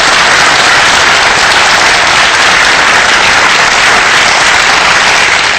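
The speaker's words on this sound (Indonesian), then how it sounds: "Kasih tepuk tangan Mama saya." Dense, steady applause from a large audience at a marketing seminar fills the hall, loud and continuous from start to finish with no talk over it.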